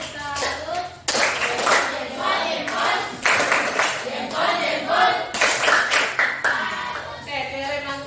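An audience applauds at the close of a classroom presentation, with steady clapping from many hands filling the room, broken by brief pauses and renewed bursts, and a voice audible now and then underneath.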